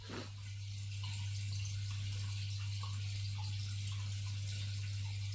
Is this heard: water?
yes